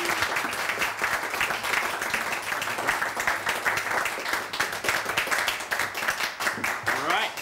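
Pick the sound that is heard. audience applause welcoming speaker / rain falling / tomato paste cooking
audience applause welcoming speaker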